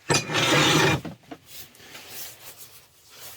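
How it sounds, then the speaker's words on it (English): Sandpaper rubs against a spinning willow bowl with resin inlay on a wood lathe, making a loud, close rasping burst of about a second, then fading to quiet scuffs. "I'll let you watch a bit of the sanding"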